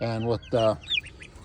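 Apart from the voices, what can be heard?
goose honking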